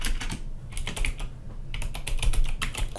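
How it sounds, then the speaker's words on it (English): Quick, irregular clacking of keys on a computer keyboard, typed in short bursts with brief pauses, close and clear. "And then I can start to type my text."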